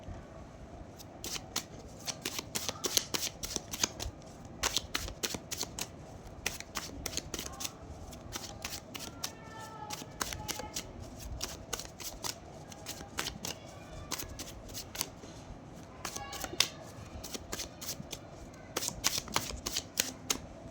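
Tarot cards are shuffled and handled in a long run of quick riffling snaps and flicks, close and crisp, steady throughout with no talk.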